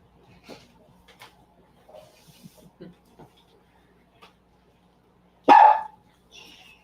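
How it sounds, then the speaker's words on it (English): A dog gives one loud, sharp bark close by, standing out after a stretch of quiet scattered sounds and followed by a fainter trailing yelp. "That's the dog agreeing with us."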